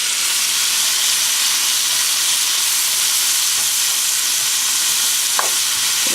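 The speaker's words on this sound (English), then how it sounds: "The onions and bacon have been cooking" Onions and bacon sizzle and fry steadily in a pot with occasional stirring, a loud, continuous close hiss of cooking.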